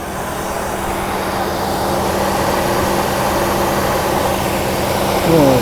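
A Mercedes R107 500SL V8, freshly repaired after an oil pan fault, idles just after a cold start: a loud, steady, close low hum with a constant droning tone that swells briefly near the end.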